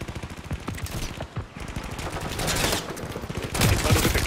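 Rapid bursts of automatic gunfire and heavy fusillades from a Call of Duty 3 campaign battle, dense and loud throughout with repeated sharp shots building toward the end.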